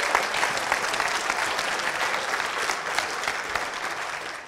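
An audience at a tech conference lightning talk breaks into sustained, even applause, a dense wash of clapping that holds steady from start to finish.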